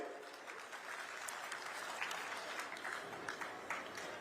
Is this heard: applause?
yes